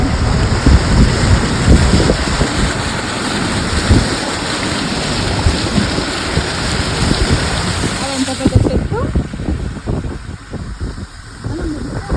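Heavy cyclone rain drums loudly during travel by road, with a dense rushing wash and low rumbling buffeting that eases and thins near the end.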